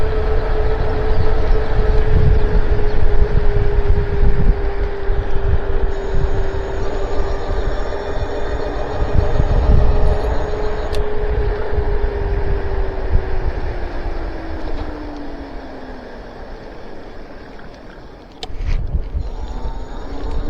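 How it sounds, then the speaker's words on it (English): Strong headwind roaring across the microphone of a moving e-bike, a loud, steady low rumble with a faint tonal whine drifting underneath, continuous for the whole stretch with no talking. "Yep, I'm running into another headwind."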